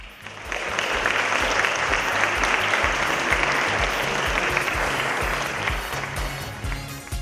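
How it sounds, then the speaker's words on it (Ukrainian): An audience at a fashion event greets professional designers with sustained applause, a full, even roar of many clapping hands that swells quickly, holds steady for several seconds, then tapers slightly. "Давайте познайомимося з ними і зустрінемо оплесками"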